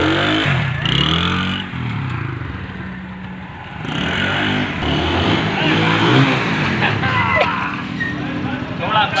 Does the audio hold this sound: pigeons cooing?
no